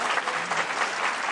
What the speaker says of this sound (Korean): 대통령실 직원 200여 명이 1층 현관 앞으로 마중 나와 공식 임기를 시작한 윤 대통령을 박수로 맞았습니다.